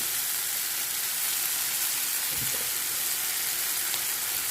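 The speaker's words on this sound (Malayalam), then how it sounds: "ഈ മുളകും പൊടി ഇട്ടെടുത്ത് മുളകും പൊടി ഒന്ന് ഇതിട്ട് ഇങ്ങനെ വറക്കും." Chili powder and garlic frying in a pan give a steady, loud sizzle that holds evenly throughout, with a soft stir or scrape partway through and no talking.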